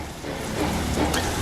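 Steady rain in the video game Ship Simulator: Maritime Search and Rescue, a dense even hiss of falling water filling the whole clip at moderate loudness, with no voices.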